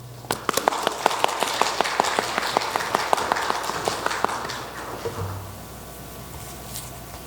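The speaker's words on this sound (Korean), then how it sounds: "나오실 때 박수로 우리 환영하도록 하겠습니다." Congregation clapping to welcome a speaker at an online Lenten evening prayer service in a church, a steady burst of applause for about five seconds that thins out and fades to quiet.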